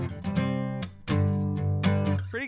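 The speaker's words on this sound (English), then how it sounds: "So what you can do is play all the chords as bar chords" Guitar playing a chord progression entirely in barre chords, four strummed chords ringing in steady succession, full and close-miked, no voices over them.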